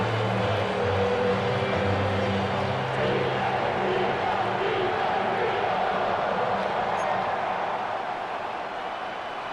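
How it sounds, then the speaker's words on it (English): A stadium home crowd in Madden NFL 26 roars and cheers after a Philadelphia touchdown, a dense sustained wash of noise that stays loud and fades only slightly toward the end. "And the home crowd loves it."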